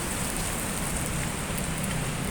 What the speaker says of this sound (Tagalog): Maulan na naman ang ulan.